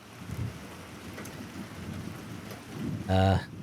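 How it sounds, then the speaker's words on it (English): Heavy rain pours steadily onto a street in the horror video game InSomno, a dense continuous wash with faint rumbling underneath and a brief louder burst near the end. "sound of rain pouring fiercely in the street brings me back to reality"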